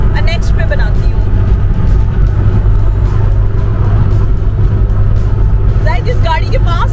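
A car drives in a video game, its engine making a loud, continuous low rumble throughout, with short bursts of higher-pitched game sounds near the start and end and voices talking over it.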